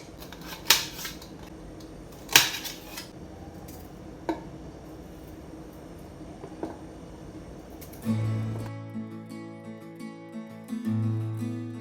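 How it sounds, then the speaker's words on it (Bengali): A knife dices capsicum and onion on a cutting board for homemade pizza, giving a few sharp, separate chops spaced seconds apart, then background music takes over. "ওই ডুমো ডুমো করে কাটছি ক্যাপসিকাম আর পেঁয়াজ।"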